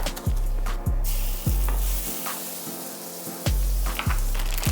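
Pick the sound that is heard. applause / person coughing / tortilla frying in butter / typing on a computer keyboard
tortilla frying in butter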